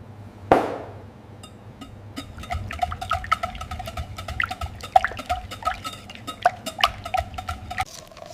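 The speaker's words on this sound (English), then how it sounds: "Just give it a good stir." A spoon stirring milk into chocolate cake batter in a bowl, starting with one sharp knock, then a run of quick wet clicks and soft scraping taps close by, with no talking.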